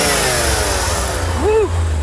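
Corvette engine idling loud and close, then briefly blipped with the throttle near the end, giving a short rising and falling rev.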